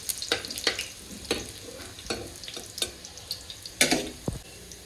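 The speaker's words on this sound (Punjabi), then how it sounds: "ਆਪਾਂ ਚੰਗੀ ਤਰ੍ਹਾਂ ਲਸਣ ਨੂੰ ਪਹਿਲਾਂ ਭੁੰਨ ਲਾਂਗੇ ਜੀ" Garlic frying in a pan for an aloo methi sabzi, with a steady background sizzle broken by repeated sharp stirring scrapes and clicks of a spoon against the pan, close and moderately loud, no talking.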